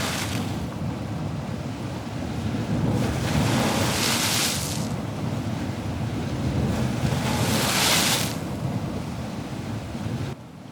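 Ocean waves and wind roll through a foggy Maine lobster-fishing harbor before dawn, a steady close wash of surf that swells twice into louder breaking surges, with wind buffeting the microphone and no voices.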